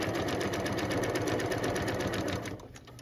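A sewing machine stitches a denim jacket side seam in a fast, steady chatter of needle strokes, close up and continuous, easing slightly in the last half second.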